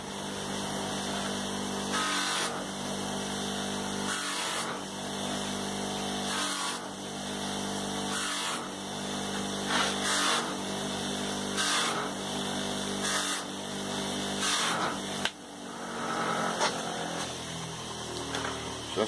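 A cordless battery drill spins a power strop against a knife edge in repeated whirring bursts, each rising and falling for a second or two, fairly steady and mid-level with no talk.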